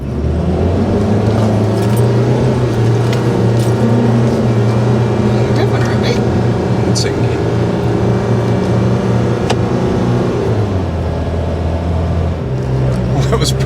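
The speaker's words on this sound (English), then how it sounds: "The car revved a little bit." A 4WD towing a caravan on beach sand, engine held in low range and revving steadily with a deep, continuous drone that dips briefly near the end; a voice speaks over it.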